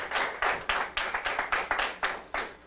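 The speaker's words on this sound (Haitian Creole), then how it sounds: "On nous applaudit encore une fois." Sharp, evenly spaced claps ring out at a Christmas song contest final, about a dozen in quick rhythmic succession, close and fairly quiet.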